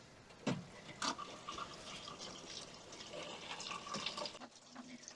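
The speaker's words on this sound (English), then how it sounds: "So we have our sink draining to a bucket" Water from a camper sink drains into a bucket, a continuous trickling, splashing flow with a few louder gurgles, close and unaccompanied by voices.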